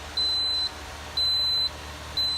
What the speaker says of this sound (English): Another cool feature on these ovens is the alarms are built in, and they're pretty loud.